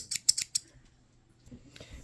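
A pair of crafting scissors snips several times in quick succession, crisp close metallic cuts, followed by quiet handling and faint rustling as they are set down.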